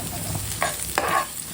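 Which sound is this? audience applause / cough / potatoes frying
potatoes frying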